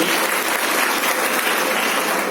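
Steady, dense applause from a crowd at a DXN business meeting fills the whole stretch, loud and continuous without pause.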